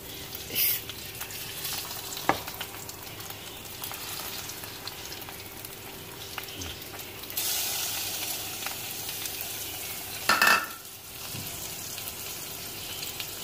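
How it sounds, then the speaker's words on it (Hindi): Chicken pieces sizzle and fry in a pan for a spaghetti dish, a steady crackling hiss broken by a few louder scrapes and clatters as the meat is stirred, with no talking. "अब हम इसमें जो है चिकन, ये वाला चिकन जो है ये हम डालेंगे।"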